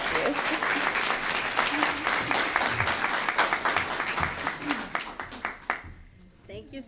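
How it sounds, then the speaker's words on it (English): Audience applause at a Women's History Month celebration comes as loud, dense clapping from a large crowd that gradually thins into scattered claps and dies away, with a voice beginning to talk at the end. "So, applause for us."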